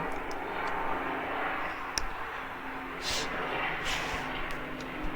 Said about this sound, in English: there's a chopper going by.